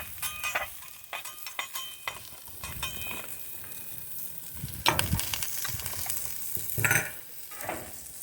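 Sliced onions fry in a pan for Philly cheese steak, with steady sizzling broken by spatula scrapes and stirring knocks that peak in a few louder bursts, close and without talk.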